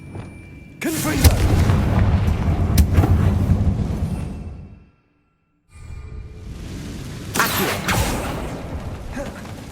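Confringo spell blasts in Hogwarts Legacy, a loud booming burst with rumbling, creaking debris, then a brief silence and a second explosive surge of crackling rumble.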